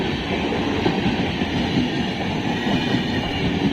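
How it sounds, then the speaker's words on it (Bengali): The Kulik Express rolls through Jangipur Road railway station in India with a loud, steady rumble of wheels and carriages, a continuous heavy roar close by with no voices. "কুলিক এক্সপ্রেস"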